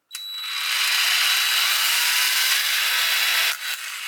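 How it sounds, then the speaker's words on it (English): A high, whirring grind of a drill spinning Lego gears at a 1:67 ratio, with a rough, scraping edge as the gears strip, steady for a few seconds before cutting off abruptly. "I hear stuff stripping in there"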